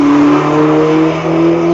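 A car engine revs loudly close by, a steady droning hum that holds its pitch and dips briefly before picking up again, with no talk over it.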